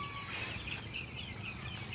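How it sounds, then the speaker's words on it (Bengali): Many small chicks at a poultry farm, gathered at water, peep in thin high overlapping chirps over a constant low barn hum, fairly close and with no talking. "এইটা হচ্ছে পোলট্রি মুরগির ফার্ম"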